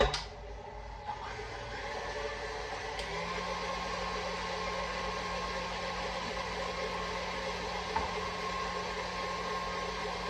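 An electric mixer whips egg whites with sugar and cream of tartar toward soft peaks for a lemon meringue pie, giving a steady, continuous motor whir that holds evenly from start to finish with no talking.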